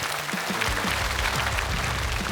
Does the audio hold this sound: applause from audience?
yes